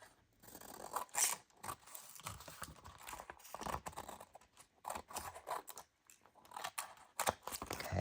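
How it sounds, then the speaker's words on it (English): Scissors snip through the bottom edge of a gel print in a mixed-media craft session, a run of close, crisp cuts with short pauses between them and no talking. "let's come and cut the bottom off"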